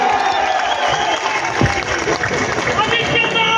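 A crowd at a political rally in Thane cheers and applauds steadily, a dense wash of clapping and shouting that stays loud throughout, with a voice speaking over it.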